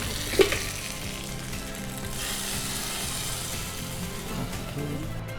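Neem leaves dropped into hot oil for tempering give a steady, close sizzle and crackle with a single sharp pop near the start, continuing evenly without talk.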